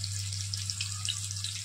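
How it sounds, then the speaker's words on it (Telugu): Pieces deep frying one by one in hot oil until brown, a close, dense, continuous bubbling sizzle with a steady low hum beneath it. "వన్ బై వన్గా పెట్టి మంచిగా బ్రౌన్ కలర్ వచ్చే వరకు వేయించుకుందాం."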